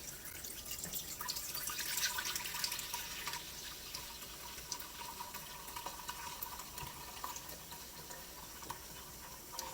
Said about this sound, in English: I'm going to go ahead and pour my broth in the pot.